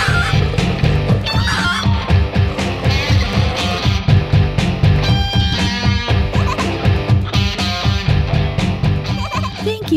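Fowl clucks and gobbling squawks from an animated cartoon chicken, mixed into busy, bouncy music that plays steadily throughout.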